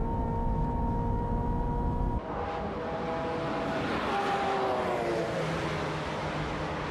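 Engines drone from a Ferrari 355 F1 and a Lancer Evo racing along the Fuji straightaway, with sustained tones rising in pitch under acceleration; after an abrupt shift two engines overlap, one climbing steadily.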